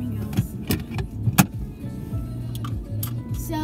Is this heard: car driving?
yes